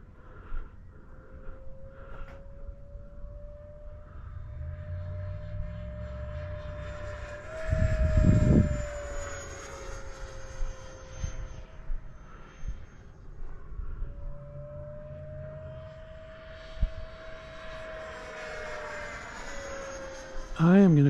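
Small RC airplane, a Viper or Turbo Timber Evo, flying with its motor at full throttle: a steady high-pitched whine that slowly shifts in pitch as it passes, with a louder gusty burst midway and at the end.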